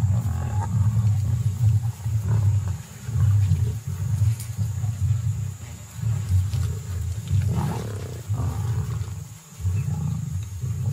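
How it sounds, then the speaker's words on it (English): A pride of about fifteen lions fights over a buffalo carcass, giving deep, rumbling growls and snarls that rise and fall continuously, close and loud, with no talking. "The buffalo carcass makes a most welcome feast, and 15 greedy mouths jostle for a piece of the meat."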